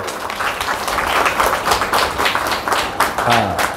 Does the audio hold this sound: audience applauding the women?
yes